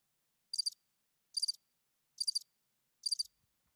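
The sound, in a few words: crickets chirping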